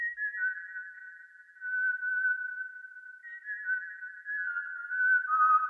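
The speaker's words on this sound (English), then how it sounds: "It is the psychopathic whistle sound." Omnisphere's psychopathic whistle synth preset plays a clean, steady whistle-like tone that glides and bends between a few nearby pitches, sustained and alone for several seconds.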